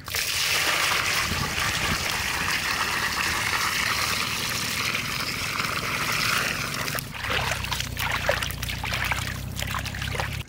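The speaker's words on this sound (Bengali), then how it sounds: "চিকেনটা সুন্দর করে ধুয়ে নেব" Water running and splashing as chicken pieces are washed in a kitchen, a continuous trickle with sloshing and handling noises near the microphone, no speech.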